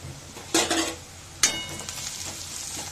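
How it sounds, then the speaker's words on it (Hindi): Carrots and onions hit hot oil in a wok with two sharp sizzling bursts, then a steady crackling fry and faint stirring clatter. "इसमें मैंने तेल डाल दिया है और इसमें सब्जियाँ तड़का दूंगी"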